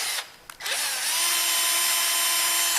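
A power drill bores through a brass shower head, its motor whining at a steady high pitch after a short stop-start at the beginning, loud and close.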